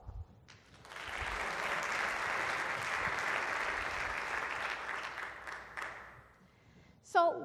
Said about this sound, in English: So that is something to applaud.